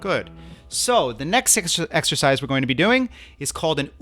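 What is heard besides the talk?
No everyday noise stands out behind the speech.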